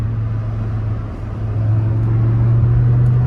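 BMW E60 M5 engine droning steadily from inside the car while driving through a tunnel, a deep continuous rumble that swells slightly louder toward the end, with no talking.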